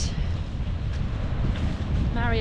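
Heavy wind buffeting a tent at a wild camp during a storm, a loud continuous roaring rush with flapping and wind noise hitting the microphone.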